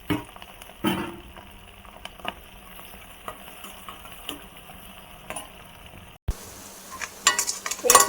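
Onion pieces frying in a pan with garlic and green chillies for a Telugu amaranth-leaf and tomato curry, giving a low steady sizzle with occasional stirring knocks, close by and fairly quiet, with no talking.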